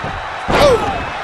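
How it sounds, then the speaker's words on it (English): A wrestler is suplexed onto the ring mat at a CWF wrestling event, landing in a single loud, hollow slam that cuts through the crowd noise, as an announcer's voice rises briefly over it. "Oh, what a beautiful suplex."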